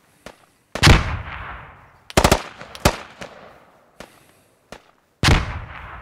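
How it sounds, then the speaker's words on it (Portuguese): Gunshots in the military shooter game Squad: a few separate loud cracks, each trailing off in a short echoing decay, with sparse single shots between them and no talk. "Eu vou atirar."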